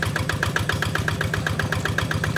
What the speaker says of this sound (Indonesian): traktor lahan yang dalam tuh mulai terpendam ya, tapi tidak menggunakan dobelan